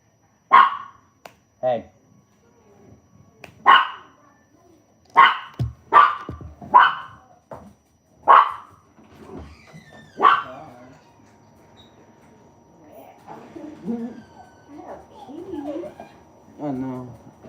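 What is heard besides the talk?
dog named Prince barking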